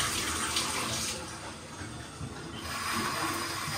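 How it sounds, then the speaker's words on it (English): Water runs steadily from a showerhead in a newly tiled shower, a broad continuous hiss and splash that holds throughout, close and fairly loud. "Let's hit the shower."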